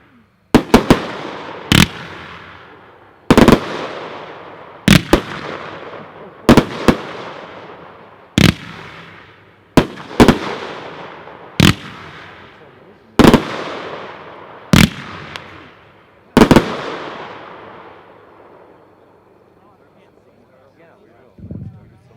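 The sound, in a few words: red, white and blue finale box fireworks, Dominator Pro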